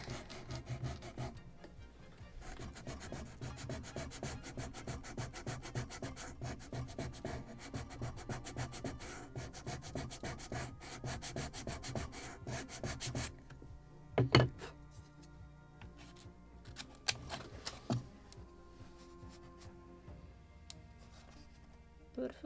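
Sanding block rubbing back and forth against a wooden edge, bevelling a part of a model of the 1776 gunboat Philadelphia. Steady close rasping strokes give way to a few knocks and scattered scrapes.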